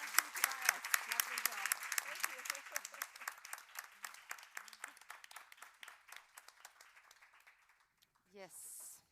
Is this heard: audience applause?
yes